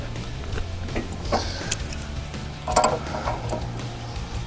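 Tightening a bolt during assembly of a Harbor Freight 8HP towable backhoe gives soft ratcheting and mechanical clicks over a steady low hum, with a brief louder metallic clink near the middle.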